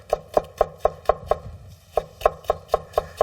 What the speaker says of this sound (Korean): 오이, 어슷 썰어서 채 썰어 주실 거예요.